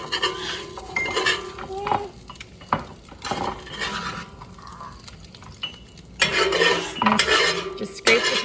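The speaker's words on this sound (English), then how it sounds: "Just scrape the pan a little bit." A utensil scrapes and clinks against a frying pan after eggs are cooked, in irregular short strokes with pauses, some louder bursts near the end, close and quiet in a home kitchen.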